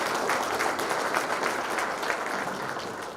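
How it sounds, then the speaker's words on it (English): An audience at a ribbon cutting ceremony for the PowerUP Las Cruces Expo and Training Event claps in dense, sustained applause that stays even for about three seconds and only tapers slightly at the end. "So let's give everyone a round of applause."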